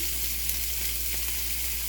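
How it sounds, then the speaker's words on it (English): Constant, loud sizzling of sweet potato hash with sausage frying in a hot pan, a dense crackling hiss with no voices. "I'm going to add this portion of the ingredients to the pan because it's sizzling."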